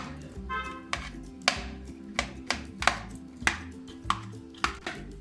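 Boiled, peeled potatoes being mashed by hand for aloo kabab, giving a string of soft, damp squishes and taps against a bowl at a steady uneven rhythm, close and fairly quiet with no talk.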